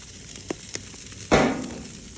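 Frozen burger patties hit a hot outdoor barbecue grill with a sudden loud sizzle that quickly settles into a steady hiss, preceded by a couple of faint clinks.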